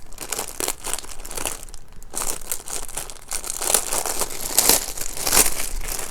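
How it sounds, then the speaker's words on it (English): A loud plastic bag being crinkled and handled, with dense crackly rustling bursts throughout that grow heavier and louder toward the end, close and alone without talk. "Let me stop crinkling this loud ass bag."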